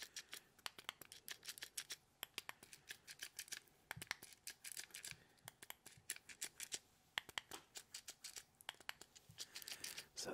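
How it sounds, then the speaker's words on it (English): Small ball bearing on a plastic stress cube clicking in rapid, irregular bursts of sharp, close ticks, dense and quiet with no voices. "we have some spinny wheels, and also a ball bearing, and the ball actually clicks"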